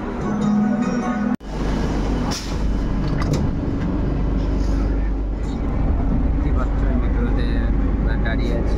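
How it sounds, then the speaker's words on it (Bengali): Loud, continuous rumble and hum inside a crowded moving metro train, with a brief sharp jolt early on and people talking throughout. "দাঁড়িয়ে আছি, প্রচুর ভিড়, এটা মেট্রো"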